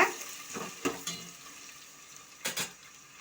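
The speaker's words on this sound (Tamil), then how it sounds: "இந்த வெங்காயம் நல்லா போட்டு நல்லா கிளறி விடுங்க." Onions, two large ones, being stirred and fried in a pan for a Tamil mutton bone curry, with a steady soft sizzle and a few scraping stirs of a spoon against the pan, close and alone.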